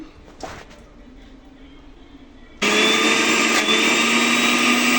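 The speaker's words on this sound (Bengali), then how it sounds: "এবার আমি এটাকে ভালো করে ব্লেন্ডার করে নেব এবং একটু ঠান্ডা হলে কচুগুলো ব্লেন্ডার করে নেব" An electric blender grinding boiled taro (kochu) for a village kochur mura recipe starts abruptly midway, loud steady whirring motor after a quiet stretch with brief handling noise.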